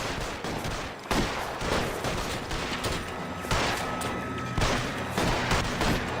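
Repeated gunshots in the video game L.A. Noire, loud and close, firing in an irregular string of sharp reports with booming tails that overlap one another.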